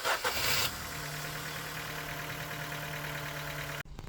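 A Ford C-Max engine idling steadily with the bonnet open, a low continuous hum with a faint tonal drone, after a brief louder burst at the start, cutting off near the end.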